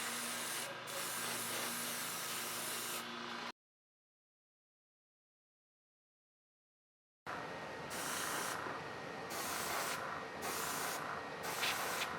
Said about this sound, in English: We added TESTORS dull coat as the top coat.